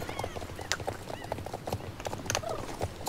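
Horse hooves clip-clop in a steady trotting rhythm in the video game Star Stable Online, moderately close, with faint game ambience around the footfalls.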